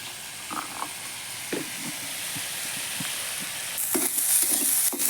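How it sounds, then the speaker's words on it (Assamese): French beans and soybean fry together in a pan with an even, continuous sizzle, broken by light scraping stirs and small clatters that grow a little louder near the end. "এয়া ফ্ৰেঞ্চবিন আৰু চয়াবিন একেলগে ভাজিছোঁ"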